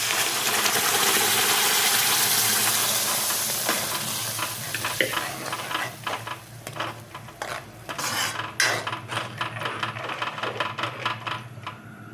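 Spinach sizzles loudly in a hot pan with tomato and coriander powder, a steady frying hiss at first, then close, irregular scrapes and clinks of a spoon stirring the greens as the sizzle settles.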